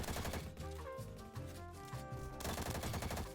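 Rapid bursts of automatic gunfire in the Roblox game Bad Business crackle over a dense, musical game soundtrack, with a heavier volley near the end.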